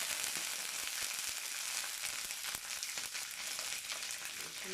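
Onions and ginger paste sautéing in a pan as filling for stuffed pointed gourd, a constant soft sizzle and hiss with faint stirring, steady and fairly quiet.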